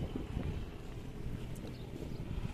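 Outdoor wind in Marawi blows steadily across the microphone, a low, dense buffeting rumble that stays constant throughout with no voices.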